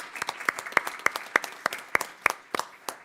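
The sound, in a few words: audience applause for schools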